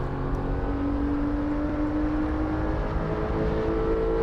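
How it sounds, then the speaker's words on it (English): A Porsche sports car engine hums and whirs steadily with a rising tone as it revs up, a continuous fairly loud drone with no voices. "Revving the engine up."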